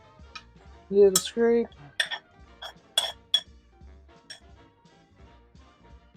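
Rose syrup is scraped out of a pan with a utensil, giving a few sharp metallic clinks and ringing scrapes close by, then quieter taps, with a brief voice.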